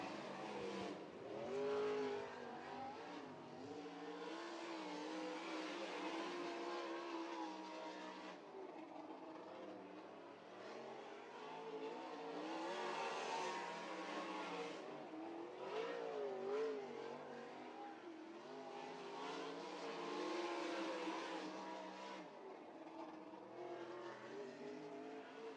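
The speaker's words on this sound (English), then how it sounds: "Brock Hallett, opening lap, quick time in heat race number 3 in that 5AU." Sprint cars roar around the dirt oval at Hilltop Speedway during a heat race qualifying lap at Ohio Sprint Speedweek, a continuous loud engine drone that rises and falls as the cars accelerate through the turns.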